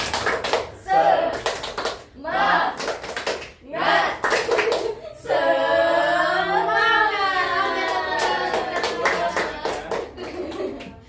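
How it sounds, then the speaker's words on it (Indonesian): Children and adults in a classroom join in a rhythmic group clapping chant called tepuk semangat, bursts of patterned claps alternating with chanted voices, followed by a long sung vocal stretch and more clapping, loud and close. "Tepuk semangat"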